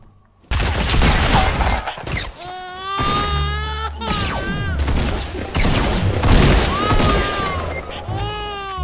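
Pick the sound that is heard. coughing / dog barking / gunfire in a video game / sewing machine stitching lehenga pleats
gunfire in a video game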